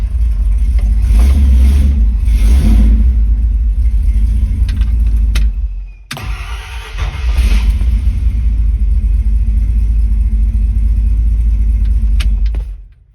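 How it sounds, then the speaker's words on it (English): A Torino's engine is cranked by a new starter and then runs loudly. There is a steady, heavy rumble with revving, a brief cut-out partway through, then it roars on at close range. "It has no problem cranking the engine over"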